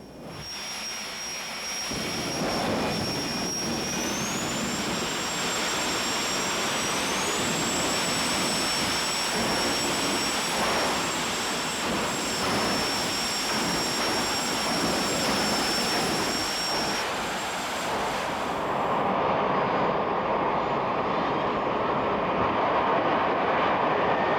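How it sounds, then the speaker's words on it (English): A jet-powered drag racing car roars loudly and steadily through a quarter-mile run at 272 miles per hour, with a high whine sliding upward in pitch, then the thunder shifts as the run ends. "You have the fastest jet car anywhere now"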